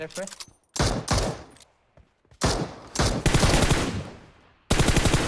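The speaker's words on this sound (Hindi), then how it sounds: "अब M249 थी, बढ़िया काम आ गई। मतलब कतई बगैर रुके गोली चलाई इन पे।" Bursts of rapid M249 machine gun fire in PUBG Mobile, several sustained volleys separated by short pauses, loud and close.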